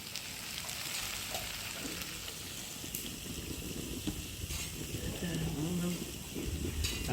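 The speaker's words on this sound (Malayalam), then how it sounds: "അതിൻ്റെ താളിപ്പ് വെളിച്ചെണ്ണ ഒഴിച്ചേ ആ മുളകൊന്ന് ഇട്ട" Chillies sizzle in hot coconut oil for a Kerala-style tempering, a steady close frying hiss with light crackles, with a voice speaking briefly over it.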